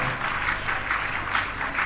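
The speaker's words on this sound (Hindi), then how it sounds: "जोरदार करतल ध्वनि से महिला वर्ग से तालियों की आवाज कम आती है" Audience applause at a Hindi religious Q&A gathering, steady dense clapping throughout with rhythmic swells, fairly close and alone.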